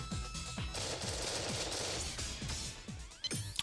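Arcade-style gunfire in Ghost Squad, quiet rapid bursts of automatic shots in quick succession, continuous with a few sharper cracks near the end.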